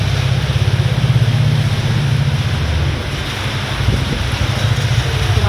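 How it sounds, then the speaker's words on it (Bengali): Heavy rain pours down at dusk under a cold wind, splashing onto a balcony; a steady, loud, dense roar of water fills the whole stretch without pause or voices. "ভালো বৃষ্টি হচ্ছে"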